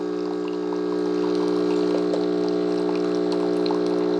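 A Hamilton Beach FlexBrew coffee maker brewing, a loud steady pump hum with a layered tonal whine and faint gurgling of water, close up and continuous.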